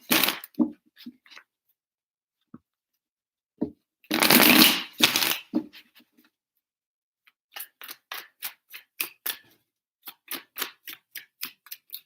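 Tarot cards are shuffled close up: a long riffling burst, then a series of quick, rhythmic flicks and taps as the deck is handled.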